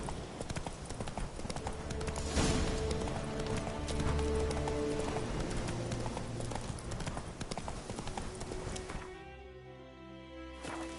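A horse in a PS4 video game gallops at speed, its hooves drumming in a fast, steady clip-clop with a brief whinny, before the pace eases off near the end.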